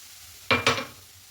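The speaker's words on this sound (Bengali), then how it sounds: "দিয়ে একটু নাড়াচাড়া করে সুজিটাকে ভেজে নেব" Semolina frying in a pan while being stirred, heard as two short sizzling, scraping bursts close by, then a quiet low hiss.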